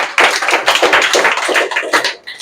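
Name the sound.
students clapping hands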